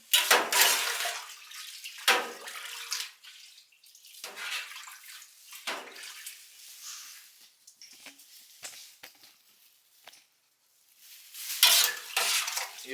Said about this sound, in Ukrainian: ретельно перемішуємо тепер наше зерно